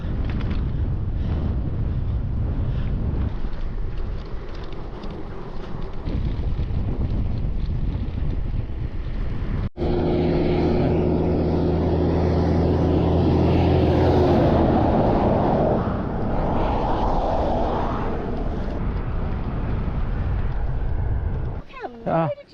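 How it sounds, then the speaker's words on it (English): Strong wind gusting in the Australian outback, a loud, constant roar and buffeting across the microphone for the whole stretch, near and overwhelming, with a brief low steady drone in the middle. "Windy, as always, windy"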